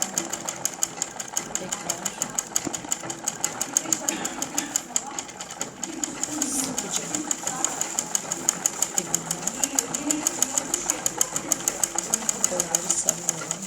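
A sewing machine stitches a light zigzag for Turkish whitework embroidery, its steady rapid needle clatter running throughout at moderate level with faint background noise.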